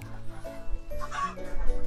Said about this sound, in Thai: ข้างล่างก็มีเสียงไก่ร้อง